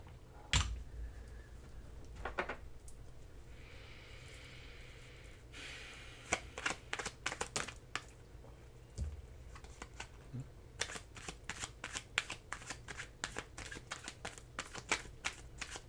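Oracle cards shuffled for a card reading, a quick run of crisp papery riffles and flicks, soft and close, clustered thickly in the second half with brief pauses between.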